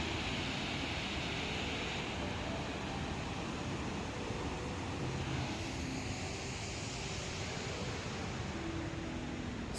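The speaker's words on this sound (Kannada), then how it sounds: "ಬರಚುಕ್ಕಿ ಜಲಪಾತ" Bharachukki waterfall in Kollegal taluk, Chamarajanagar district, a dense, constant roar of falling water that stays steady and loud throughout, with no talking.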